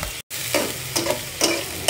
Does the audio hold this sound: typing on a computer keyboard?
no